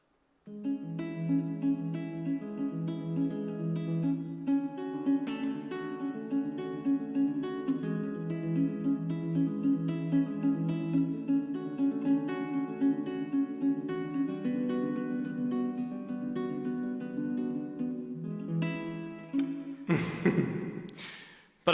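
Plucked strings in an alternative picking pattern, a continuous stream of rapid, even notes lasting about twenty seconds with no talk, closing with a brief burst of breath or handling noise.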